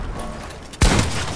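A single sharp gunshot cracks from a sniper in a video game, one loud boom with a short tail after a quiet stretch.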